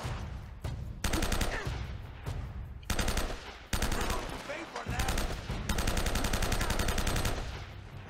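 Rapid bursts of M4 assault rifle fire in Uncharted: Drake's Fortune Remastered, loud and repeated in sustained automatic strings separated by short pauses, with game action throughout.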